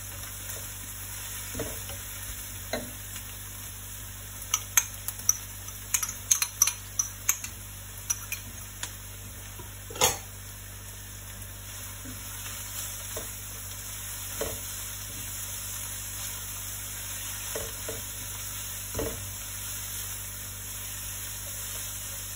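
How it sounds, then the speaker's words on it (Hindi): Continuous hissing sizzle of garlic frying with onions in a pan, broken by a cluster of small crackles and pops and a few utensil taps; no talking. "ये लहसुन भी डाल देते हैं"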